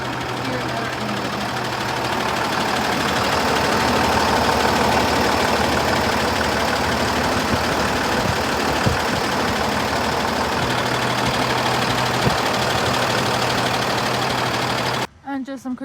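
Steady, loud idle from a 6.7 liter Cummins ISB inline-six diesel with automatic transmission in a 2017 International DuraStar 4300 box truck, running evenly for about fifteen seconds before cutting off abruptly.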